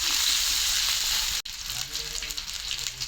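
Onions and green chillies fry in hot oil with a loud, crackling sizzle. A sharp drop interrupts it briefly, then a softer, uneven sizzle continues with light stirring noises.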